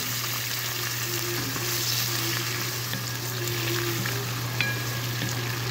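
Tomatoes, squash and string beans sizzle steadily in a hot pan as fish sauce goes in, a constant loud frying hiss with an underlying hum and no talking.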